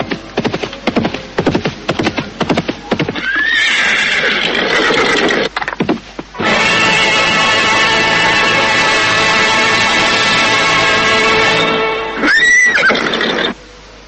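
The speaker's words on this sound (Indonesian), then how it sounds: "mendadak terdengar derap kuda semakin dekat" Horses gallop with rapid, loud hoofbeats, then shrill neighs and whinnies burst out, one at the middle and another near the end, over a dense, busy background.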